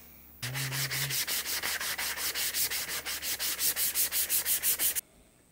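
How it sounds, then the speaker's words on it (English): Close, loud sanding on a flamed maple and redheart wooden guitar neck: about twenty brisk, evenly spaced back-and-forth strokes, then an abrupt stop. "You're never finished sanding on a guitar build."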